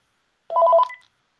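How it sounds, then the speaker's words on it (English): A single short electronic telephone tone of an incoming call sounds once, clear and close, with silence before and after. "And we're getting a call, guys."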